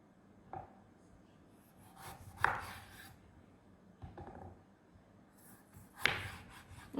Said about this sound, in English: it wants us to quarter a lime